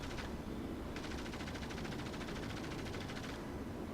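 Aircraft machine guns chatter in bursts during a World of Warplanes dogfight, flown in a Tier 2 Soviet ground-attack plane, a rapid buzzing rattle over a constant engine roar, firing from beyond effective range.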